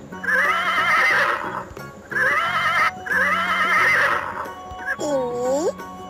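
A horse neighs and whinnies loudly in three long, shrill calls separated by brief gaps, with a short snort or whinny at the end.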